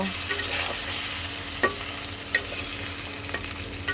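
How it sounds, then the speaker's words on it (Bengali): Oil sizzles steadily in a pan as potatoes fry while a utensil scrapes and clacks a few times, stirring them; no talking. "আলুগুলো একটু হালকা ভেজে নেব"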